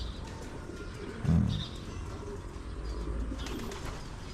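Racing pigeons cooing in a loft, a soft low coo standing out once over steady background noise.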